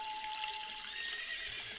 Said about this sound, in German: Und jetzt wird Epona geschwind zu uns reiten.